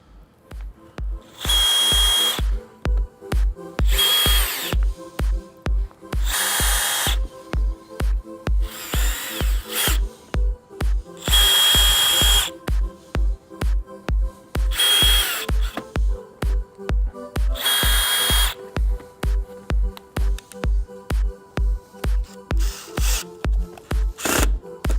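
A power drill drives screws while a Bestop Trektop soft top is fitted to a vehicle: loud, close bursts of motor whine, about eight of them, spaced by short pauses over a rapid steady clicking, with no talk.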